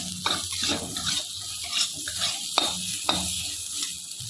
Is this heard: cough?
no